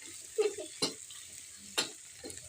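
A spoon stirs chili and spring onion in a frying pan with a soft background sizzle, producing a few sharp scraping clicks at irregular intervals, close and quiet.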